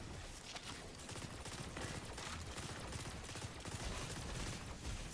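Gunfire in the video game Destiny 2 rattles in dense, continuous bursts, a steady barrage of shots and impacts with no pauses.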